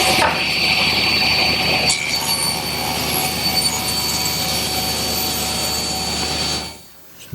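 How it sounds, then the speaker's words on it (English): A table saw rips the edge of a wood board for an outdoor lidded bench, with a loud, steady whining cut that holds for several seconds and then stops abruptly as the blade clears. "Now I'll just move the fence a 1/16 of an inch closer to the blade and rip the other edge."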